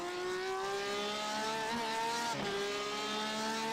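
Race cars at the Nürburgring, heard as a steady engine whine with gear-like harmonics that shifts pitch briefly mid-clip as one car closes on another's bumper and pulls out to pass, loud and continuous with no talk.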